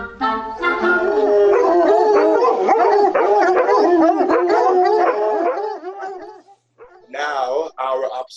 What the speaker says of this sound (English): my love shall hear the music of my hounds